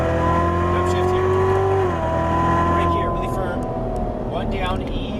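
A Chevrolet Corvette Stingray Z06 is driven hard on a race track: a loud, close engine drone drops in pitch as it downshifts under braking, then climbs again, with tire noise and someone talking over it.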